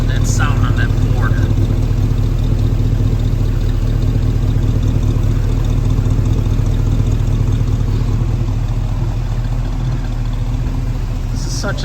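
A 1940 Ford Deluxe Coupe with a small block Chevy engine runs close and loud, giving a steady, deep rumbling idle that holds throughout, with a voice faintly present under it.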